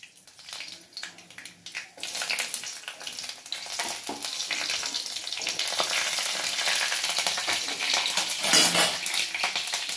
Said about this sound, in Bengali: এবার তেলে ফোড়ন দেবে সর্ষে আর কাঁচা লঙ্কা।